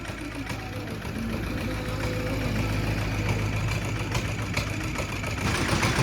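A tractor engine chugs with a steady, low knocking rumble that grows slightly louder, as if drawing closer, with faint background voices.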